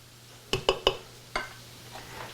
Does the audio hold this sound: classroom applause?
no